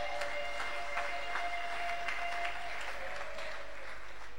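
A church congregation applauding during a Sunday service, a dense, sustained wash of clapping from many hands that fills the room evenly with no break.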